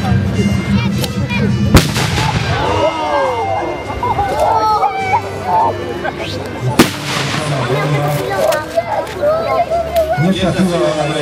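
Gunfire at a historical battle reenactment in Grajewo: two sharp, loud shots several seconds apart over steady crowd chatter and children's voices.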